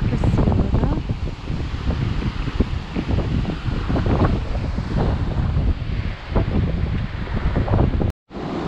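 Loud, steady rushing of Horsetail Falls, a waterfall on the trail to Avalanche Lake, fills the whole stretch, broadband and continuous, cut off abruptly near the end.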